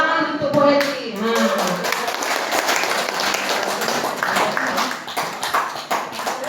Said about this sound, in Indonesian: Tepuk tangan untuk polisi.